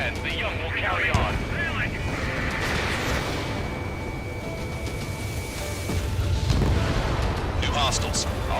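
Bombing explosions and jet aircraft over a culturally valuable town in the Ace Combat 7 video game: rumbling blasts and engine roar, with bursts swelling louder near the end, under radio chatter.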